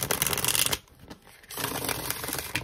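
A deck of stiff, hard-cardstock tarot cards is shuffled up close in two crisp, rustling bursts separated by a short quiet pause.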